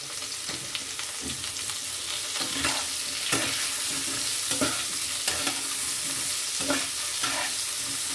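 Vegetables with freshly added cut eggplant frying in oil, a steady sizzle broken by repeated scraping stirs of a spatula against the pan, close and fairly loud, no voices.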